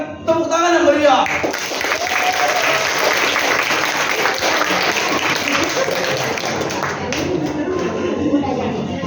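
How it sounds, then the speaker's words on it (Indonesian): A theatre audience bursts into sustained, lively applause welcoming the new queen in a stage play, dense clapping filling the room for several seconds after a brief opening burst. "Tolong berikan tepuk tangan yang meriah."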